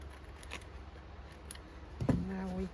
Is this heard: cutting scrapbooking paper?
yes